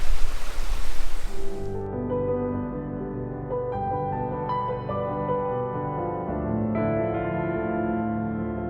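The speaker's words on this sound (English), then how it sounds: "It's grey, but it's a waterfall." A waterfall on a grey, overcast day gives a loud, steady rush of broadband water noise for the first couple of seconds, after which sustained tonal music takes over.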